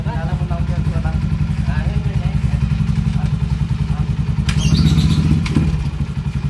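Honda TMX155 motorcycle with a sidecar idling steadily nearby in Urdaneta, Pangasinan, a continuous low thumping engine that swells briefly louder toward the end, with people talking over it.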